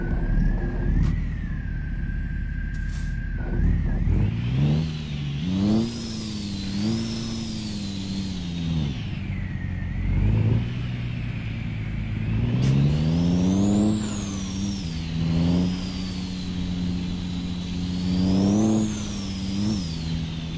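A Peterbilt 389 truck engine in American Truck Simulator, revving up and down through gear changes with sweeping pitch, loud and close, alongside a steady high whine early on.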